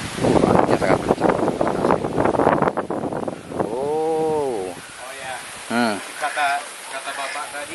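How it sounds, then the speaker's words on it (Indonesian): Strong wind roars and buffets the microphone, loudest early on. A voice talks and calls out over it in the second half. "Anginnya sangat kencang"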